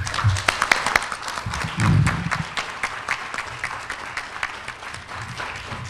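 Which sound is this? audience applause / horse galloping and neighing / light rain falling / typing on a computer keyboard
audience applause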